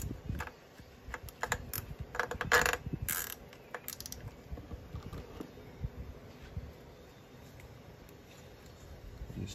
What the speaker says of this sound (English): using the last few cable ties in the pack, we'll go ahead and firstly secure our fuse holder